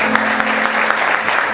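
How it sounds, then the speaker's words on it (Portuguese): A church congregation applauds in steady, dense clapping throughout, loud and close with no clear voices on top. "Vamos aplaudir Jesus, queridos."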